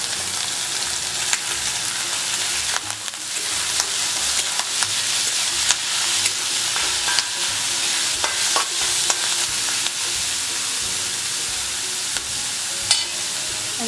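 Clams frying in a pan with finely chopped ginger, a steady loud sizzle and crackle with the clatter of stirring scraping through it, close up with no talking.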